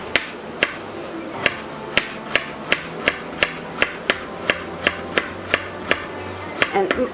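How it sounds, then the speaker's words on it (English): A knife chops vegetables on a cutting board for a three-course meal, with fast, evenly spaced sharp knocks, about twenty in a steady rhythm, close and loud. "So I try and get the cutting over with as fast as I can."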